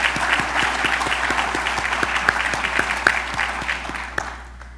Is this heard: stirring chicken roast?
no